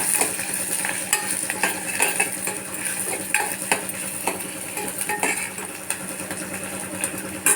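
Lentils fry in a pan, a loud, close, continuous sizzle broken by frequent scraping and clinking of a utensil stirring them.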